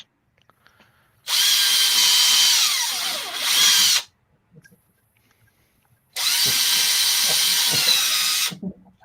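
A power tool runs in two loud, steady bursts of a few seconds each, with a high whirring hiss separated by a quiet pause with faint clicks and handling noise.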